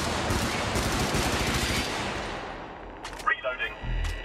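An automated turret in Helldivers fires a rapid, steady stream of shots that fades off after a couple of seconds. A few scattered clanks and effects follow at a distance.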